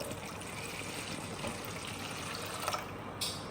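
Warm water pours in a steady, soft trickling stream onto yeast for pizza dough, close by and continuous, with a brief clink near the end.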